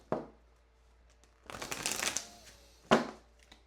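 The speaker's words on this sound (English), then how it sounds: "they're telling me another big shuffle" Tarot cards shuffled in a quiet room: a short riffle, then a longer crisp run of flicking cards, and a final sharp burst of cards snapping together, close and clear.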